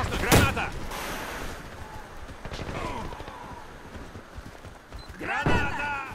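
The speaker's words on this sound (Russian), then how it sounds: "Осторожно, граната!" Gunfire and a grenade blast in the Warface video game, sharp shots and heavy thuds scattered through the clip, with voices speaking over the combat.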